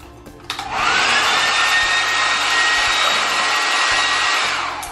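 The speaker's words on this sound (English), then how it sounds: "when they come in and they turn the blow dryer on" A hair dryer clicks on and blows with a steady high whine and rushing air for several seconds before shutting off.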